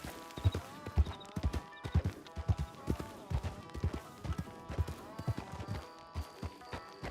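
Horse hooves clip-clop in a steady trotting rhythm in a role-play video game, close and clear, with a few faint neighs and no talking over them.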